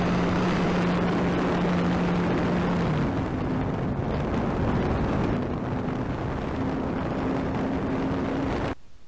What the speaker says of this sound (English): I'm taking my canary plane out to fly